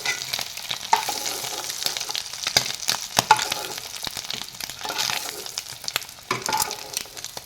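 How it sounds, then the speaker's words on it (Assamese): Eggs sizzle steadily while frying in hot oil for an egg and tomato curry, a constant close crackle with small pops and the occasional scrape of stirring. "ইয়াত কণীখিনি মই ফ্ৰাই কৰি ল'লোঁ।"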